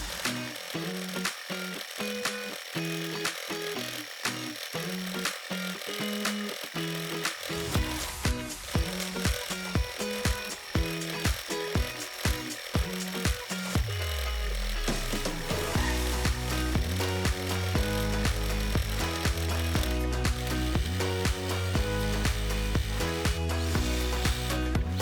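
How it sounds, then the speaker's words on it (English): An embroidery machine stitching a vintage Dresden Plate quilt block, giving a loud continuous mechanical whir with rapid rhythmic needle thumps that shifts to a deeper, steadier hum partway through. "let's get the rest of my machine embroidery done"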